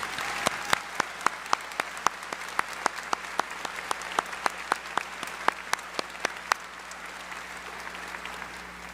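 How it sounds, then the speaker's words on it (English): Steady applause from a crowd at a high school graduation ceremony, dense clapping with a few sharper claps standing out, continuing evenly throughout. "please join me in a round of applause for these fine educators"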